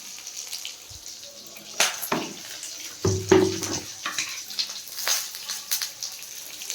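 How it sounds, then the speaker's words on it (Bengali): Mango pieces, salted lightly, fry in oil with mustard seeds: a low sizzle runs underneath as a utensil stirs and knocks against the pan in irregular, close clatters and scrapes, busiest in the middle. "এবার এটার মধ্যে হালকা লবণ দিয়ে এটাকে ভেজে নেবো ভেজে নেবো ভালো করে"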